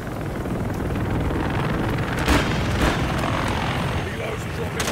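Helicopters in the Call of Duty Modern Warfare 3 campaign make a steady, droning rotor roar with a windy rush, constant throughout, with a couple of brief louder swells.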